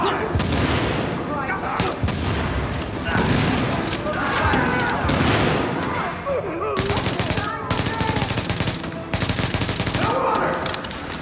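Heavy, sustained gunfire in the shooter game The Division, dense overlapping bursts and booms filling the whole stretch at high level, with voices calling out beneath the shooting.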